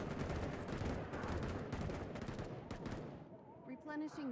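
Rapid, loud gunfire from a zombie shooter video game, dense overlapping shots for several seconds, then a brief voice near the end.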